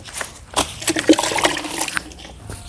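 Water is poured onto a plant in a few uneven splashing gushes and trickles, close and fairly soft, with brief pauses between pours.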